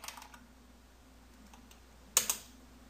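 Keys clatter on a computer keyboard as a command is typed: a few soft taps at the start, then a sharp pair of louder clicks near the end, against a quiet room hum.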